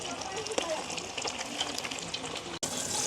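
Fish fries in hot oil for a village fish curry, giving a steady, close sizzling hiss with small crackles throughout.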